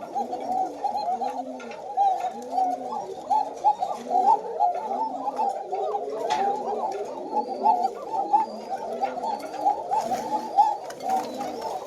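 Pigeons in a farm loft coo continuously, overlapping soft rolling calls repeating in a steady rhythm close by, with faint chirps and no talking.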